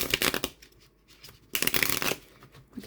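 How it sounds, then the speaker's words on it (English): A slightly stiff tarot deck from a Halloween and Samhain collection is riffle shuffled in two close, crisp bursts of rapid card flutter with a quiet pause between them. "So we'll have a look at the shuffle."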